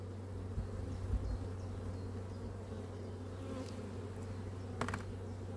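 Honeybees hum in a low, steady drone close by at a hive, a continuous buzzing swarm with a few brief clicks and knocks over it.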